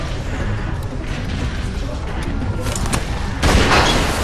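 Gunfire in The Walking Dead video game, a loud continuous clatter of shots that ends in one heavy, booming blast near the end.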